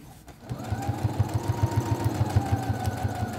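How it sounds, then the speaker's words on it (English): A sewing machine stitches the seam of a fabric reusable snack bag, starting up after a brief pause and running a steady, rapid mechanical rhythm at close range, with no talking. "And my machine backstitches already, but I'm going to do it when I start."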